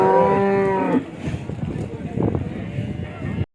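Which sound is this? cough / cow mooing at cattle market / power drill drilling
cow mooing at cattle market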